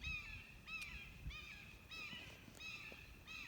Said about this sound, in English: You hear our hawk?